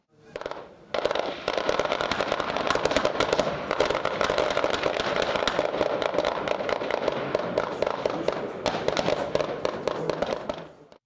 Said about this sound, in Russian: В ходе боевой стрельбы были совершенствованы навыки ведения боя из всех видов штатного вооружения